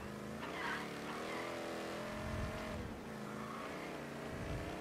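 A stolen car drives in Mafia 3, its engine revving and shifting up and down with tire skids, loud and close with no talk.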